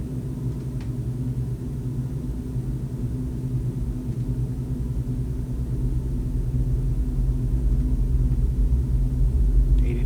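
Jet airliner engines spooled up to full takeoff power as the aircraft begins its roll, a loud steady low rumble that builds gradually in intensity, heard from inside the cabin.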